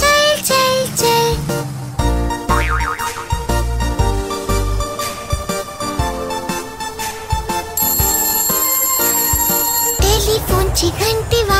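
A telephone ringtone rings within a Marathi children's nursery rhyme, its bright electronic trill sounding loud over busy, continuous song music.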